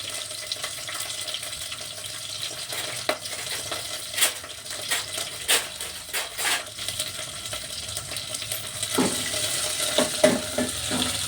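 Onions and curry leaves fry with green chillies in a pan, a steady soft sizzle underlying occasional stirring scrapes and clicks, close up with no speech.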